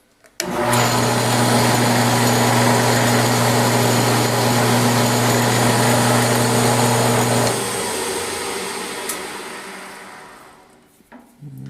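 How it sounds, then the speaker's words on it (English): A steady high-pitched power drill whines continuously for several seconds as a spotting drill starts a 1/4 inch hole, then winds down and stops, close up. "I'm going to use my spotting drill."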